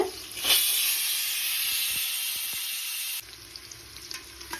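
Onions and crushed ginger garlic paste with cloves sizzle steadily in a hot pan, a loud continuous fry with a brief stir near the start and quieter sizzling toward the end.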